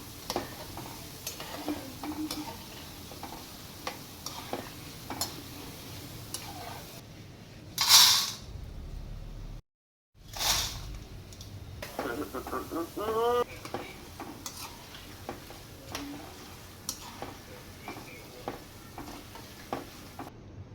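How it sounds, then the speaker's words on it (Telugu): Boondi fries in oil in a kadai with a steady, dense sizzle and occasional stirring clinks. The sound drops out briefly near the middle before resuming. "ఈ కడాయిలోది వేగిపోయిన తర్వాత అది ప్లేట్లో వేసుకుంటాను"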